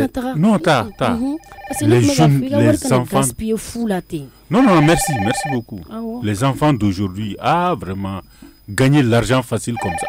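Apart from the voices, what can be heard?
telephone ringing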